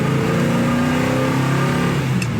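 A 1973 Ford Mustang Mach 1's big-block Cleveland V8 revs hard and holds a steady, loud drone, with a brief higher mechanical whine near the end.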